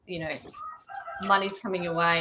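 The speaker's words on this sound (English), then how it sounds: "I don't know if you can hear my roosters in the background." Backyard roosters crow loudly and repeatedly, their long calls running under and between a person's speech.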